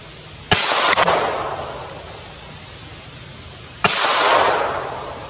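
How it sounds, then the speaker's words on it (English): Two loud, sharp gunshots from a Ruger MKIII 22/45 slab-side .22 pistol ring out several seconds apart, each cracking with a decaying echo. "I know I'm shooting a little high, I think."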